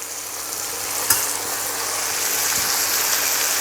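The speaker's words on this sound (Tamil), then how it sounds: "இப்போ இந்த தக்காளி நல்லா கொலைய வதங்கணும்" Tomatoes sautéing in hot oil with asafoetida, chilies and curry leaves for a Karaikudi tomato chutney, giving a steady bright sizzle and frying crackle with a couple of faint stirring taps.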